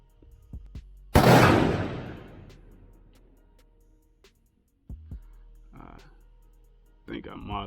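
A single loud rifle shot fired at a 1,000-yard long-range target, a sharp blast with a decaying echo rolling off for about two seconds, followed by quiet and small handling noises.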